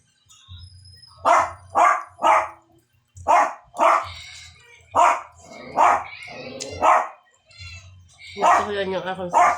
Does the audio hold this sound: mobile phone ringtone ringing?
no